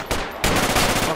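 Close, loud automatic rifle fire in Battlefield 2 Project Reality during an assault on a mountain enemy base. A sharp shot is followed by a sustained rapid burst of rounds.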